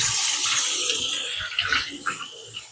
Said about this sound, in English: So I'm just going to give it a little rinse.